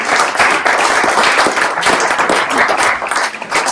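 An audience at a conversational marketing breakfast event applauds after a talk, a dense continuous burst of clapping from a room of people, loud and close.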